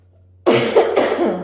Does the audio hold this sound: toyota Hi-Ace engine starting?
no